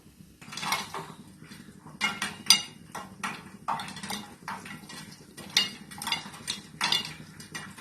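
Popcorn kernels popping over high flame inside a pressure cooker with only the washer fitted on the lid. Bursts of muffled pops and rattles come in quick, irregular clusters, close and fairly loud.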